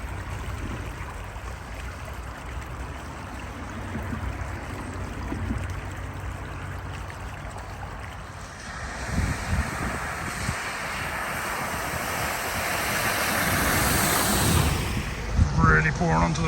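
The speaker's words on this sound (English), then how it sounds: "Really pouring onto the roads now" Floodwater from the River Thurne at Potter Heigham pouring across roads and footpaths, a steady rushing stream that grows louder and closer partway through, with a vehicle or splashing sounds near the end.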